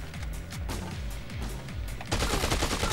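Rapid automatic fire from the Merc Assault Rifle in Dead Rising 2, a steady stream of close, loud shots with a heavier burst near the end.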